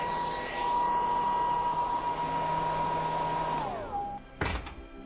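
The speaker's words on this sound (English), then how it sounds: "A hairdryer." A hairdryer in a PC Christmas adventure game whirs with a steady loud electric whine, then winds down in pitch before a brief sharp clatter.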